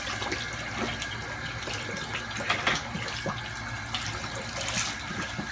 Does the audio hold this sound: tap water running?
yes